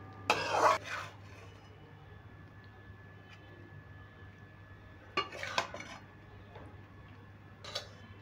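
Tarka paneer being transferred from a cooking pan into another bowl: a few sharp metallic scrapes and clinks of a spoon against the pan, in short bursts separated by quiet stretches.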